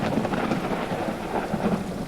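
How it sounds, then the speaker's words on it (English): Heavy rain and rolling thunder from a dynamic weather system in a racing game, a dense continuous roar of downpour with deep rumbling underneath, steady and loud, no speech. "let me show you something really cool with the thunder and lightning."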